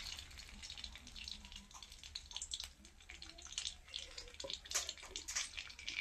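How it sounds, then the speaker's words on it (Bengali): Mustard oil poured into a cooking pan, a faint, steady liquid trickle with light drips, quiet and close, with no talking. "এখানে দিয়ে দিচ্ছি আমি সরিষার তেল।"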